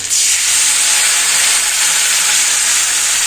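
Ground mustard paste hitting hot oil in a pan while cooking bata fish curry, giving a loud, steady, bright sizzle that starts abruptly and holds without a break.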